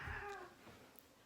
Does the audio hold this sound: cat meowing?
yes